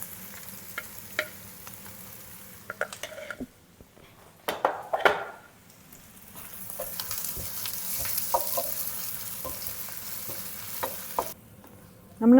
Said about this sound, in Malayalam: നമ്മുടെ വെളുത്തുള്ളിയും ഉള്ളിയും നല്ലതായിട്ട് സോട്ടേ ആയി വരുന്നുണ്ട്